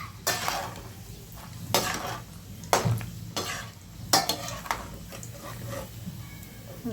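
Peanuts fry in hot oil for a crispy corn chivda, a quiet sizzle broken by repeated scraping strokes of a spatula against the pan.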